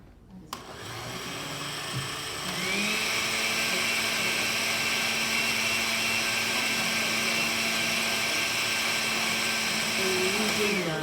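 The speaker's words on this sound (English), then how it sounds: "We're using the blender because the Parmesan cheese kind of just cooked in a clump." A kitchen blender whirs steadily as it breaks up a clump of cooked Parmesan cheese, starting after a brief clatter and then holding a loud, constant motor drone.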